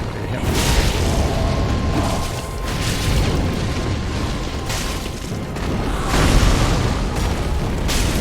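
A grenade blast in Demon's Souls, a loud booming burst with a rumbling roar that rises again toward the end, amid steady dense game noise.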